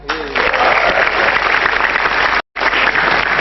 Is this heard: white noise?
no